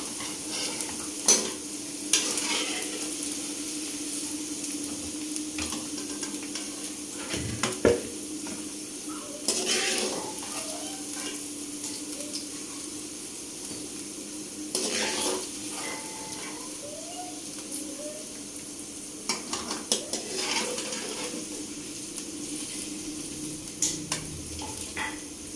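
Onions frying in a pan used for bhindi, a steady sizzle under repeated spoon scrapes and occasional metal knocks, with a faint voice at times.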